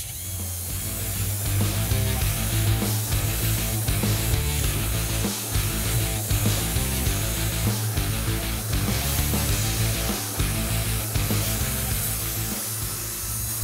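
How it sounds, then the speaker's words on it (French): A loud orbital sander at reduced speed with 320-grit paper whirs continuously with a gritty, rasping drone, grinding steadily against a plastered wall without pause. "320 également, vitesse réduite sur la ponceuse excentrique"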